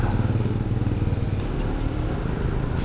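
A motorcycle roars steadily underway, recorded from a camera on a motor mount, with loud continuous engine drone and wind rumble throughout and no talk.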